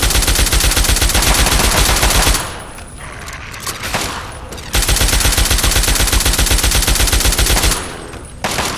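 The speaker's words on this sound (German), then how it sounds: "Ah, und da werden wir schon beschossen." Enemy Enclave soldiers in Fallout 3 open up with sustained automatic fire, loud and close, in long rattling bursts broken by a few seconds of quieter gaps.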